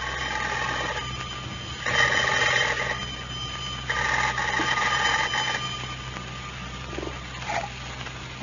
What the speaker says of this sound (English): The telephone is just ringing.